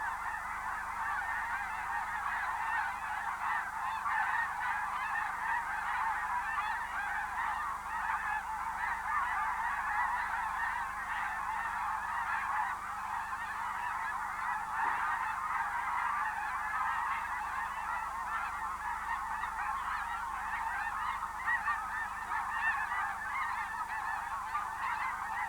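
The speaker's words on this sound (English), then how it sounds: "The airborne birds fly in to join an equal number of geese already landed on the lake." A large flock of geese honks continuously as the birds fly in and land on a lake at a wildlife refuge, the dense chorus of calls steady and loud throughout.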